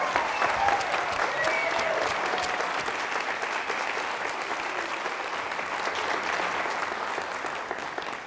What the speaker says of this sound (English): I think we need one more big applause for the fantastic finalists.